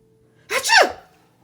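A single loud, close sneeze, voiced as a theatrical imitation in a children's read-aloud, bursts out sharply and fades within half a second, surrounded by near silence.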